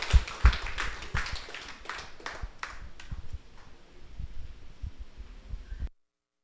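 A church congregation applauds, loud at first with dense overlapping claps, then thinning and fading over several seconds before cutting to silence.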